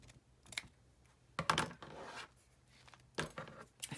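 Paper tab in a journal being trimmed, a few short crisp snips and rustles in bursts, close and fairly quiet, no talking.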